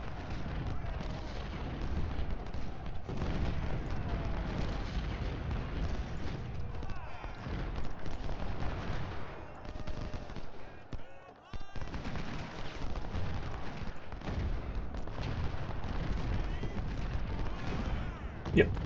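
Cannon and rifle fire rumble without pause in an Ultimate General: Civil War battle at Fredericksburg, with dense overlapping booms and crackling volleys that dip briefly and then surge back at full strength.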